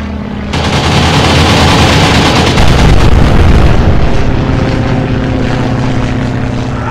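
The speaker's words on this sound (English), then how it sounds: "Now we're going to do one more machine gun run before we do a rocket run." Aircraft machine guns rattle in a sustained, loud burst over a droning propeller engine during a strafing run on a ship in the naval combat game Atlantic Fleet, the firing opening abruptly and holding steady without speech.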